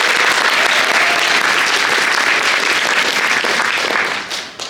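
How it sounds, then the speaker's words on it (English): A theatre audience at a musical show breaks into loud, dense applause that holds steady for several seconds before tapering off near the end. "let us give a big round of applause to Lady Arwen and the team"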